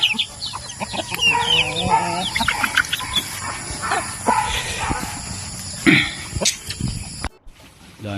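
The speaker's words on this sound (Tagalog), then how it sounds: "Tapos meron siya mga alagang manok." Chickens cluck and squawk close by in a busy rural farmyard, with a dog barking intermittently among them.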